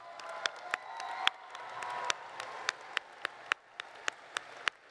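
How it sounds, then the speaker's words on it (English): Audience at a medical school white coat ceremony applauding the rising osteopathic medical students, with a broad crowd clapping and scattered sharp, louder claps standing out near the microphone, plus faint cheering. "we can give them an applause"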